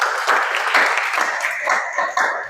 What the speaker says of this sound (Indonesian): Berikan aplaus kepada Dek Sari Fitro